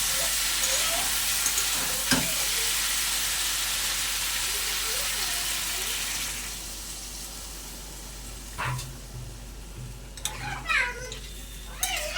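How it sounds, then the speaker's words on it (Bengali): Water poured into a pan of curry with green banana cooking for a rohu fish dish, a loud hiss and sizzle that gradually settles to a quieter simmer, with scattered clinks and brief sounds near the end. "এবার আমি পরিমাণ মতো জল দিয়ে দেবো"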